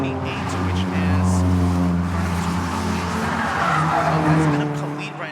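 Race cars roar and drone steadily on track in a qualifying session of a sporting-class racing video game league, with engine tones and tire noise running continuously under a commentator's talk.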